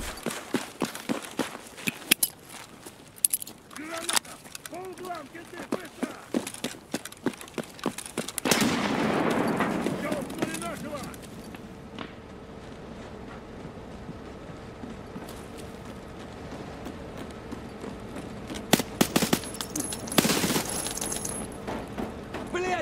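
Machine-gun fire in the shooter game Escape from Tarkov arrives as scattered sharp shots and short rapid bursts, mostly moderate in level and somewhat distant, with a denser cluster of fire near the end amid other in-game clatter.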